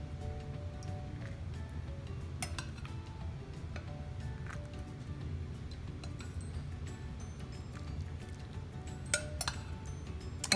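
Grabbing a spoon among dishes while prepping a taco casserole freezer meal brings faint, scattered clinks and taps of cutlery against pots and glass over a quiet kitchen background.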